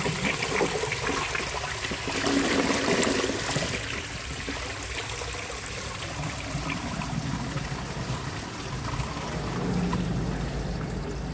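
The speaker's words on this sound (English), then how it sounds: "Now let's see how it flushes with a clogged siphon jet." A 1959 Standard Compton toilet with a clogged siphon jet flushes in a steady, loud rush of water that churns and gurgles for over ten seconds, close up and with no talking.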